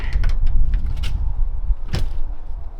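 Car doors being shut and adjusted while fitting a light bar and spot lights: several close, dull thumps and clunks with light metallic creaks, loud and near, with no one talking.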